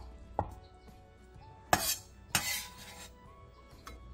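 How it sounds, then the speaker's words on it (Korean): A knife cuts crab sticks diagonally into thick slices on a cutting board, giving a few sparse, sharp taps and clacks against the board with quiet pauses between them. "게맛살 두세 개를 1cm 정도 두께로 어슷썰기 해주세요"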